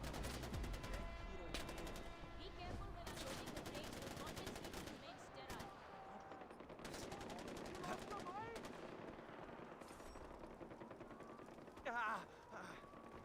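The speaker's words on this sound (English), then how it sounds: "What, we in a firefight?" Gunfire from a firefight in the video game Far Cry 4, with steady automatic shooting and clattering game effects under a voice talking.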